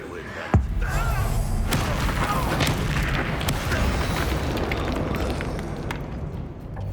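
A fire spell cast in Hogwarts Legacy sets off a sharp boom near the start, followed by a sustained roaring, crackling rumble of flames and battle noise that fills the rest of the moment.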